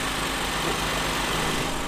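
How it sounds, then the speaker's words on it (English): A generator runs steadily near a dyno in a shop, a loud, constant engine drone with a low pulsing hum and no talk over it. "I know it's a little bit hard to hear today, and I apologize if they got a generator running on the dyno"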